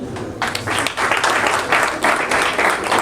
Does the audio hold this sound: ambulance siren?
no